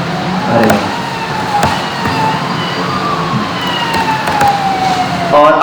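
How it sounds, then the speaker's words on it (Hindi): An ambulance siren wails through street noise, a rising and falling electronic tone repeating under traffic rumble and faint voices, fairly loud and steady. "एम्बुलेंस"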